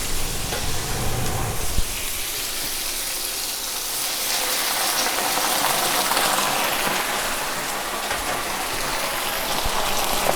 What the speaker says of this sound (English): And then some water.